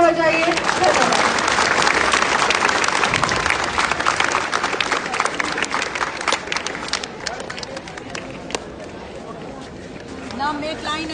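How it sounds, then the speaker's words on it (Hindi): Audience at a school event applauds in dense, sustained clapping with crowd chatter mixed in, loud throughout and easing slightly toward the end. "एक बार खुद के लिए जोरदार तालियां बजाइए।"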